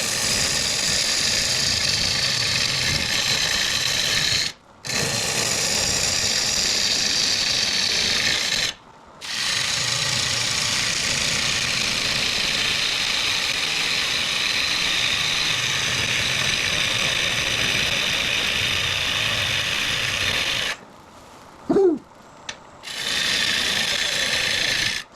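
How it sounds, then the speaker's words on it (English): Maple is turned on a wood lathe, throwing shavings: a continuous close rasping, scraping hiss of the tool biting the spinning wood, cut by a few short pauses, with a brief knock near the end and no talking. "This is kind of my favorite part of turning anyway. I like making shavings."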